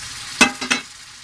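Fish going into a hot pan of spiced masala and frying, a few close bursts of sizzling and stirring scrapes over a steady low hiss, with no voices.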